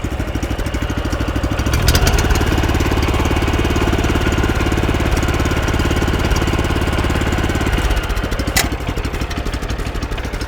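A walk-behind Asia cultivator engine runs steadily at a loud, close, chugging idle while the machine turns, and a few clanks and rattles sound over the constant drone.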